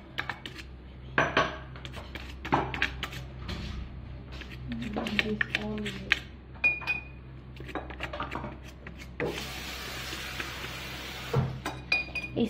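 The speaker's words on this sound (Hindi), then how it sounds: "मैं इसीलिए फॉक यूज़ कर रही हूँ, इससे बस मैं इन पे हल्का हल्का सा ऑयल लगा लूँगी" A fork clinks and taps against a tray or dish while oil is brushed onto dough, giving scattered light metallic ticks and clatters, close but quiet, with a longer rattling burst near the end and someone talking throughout.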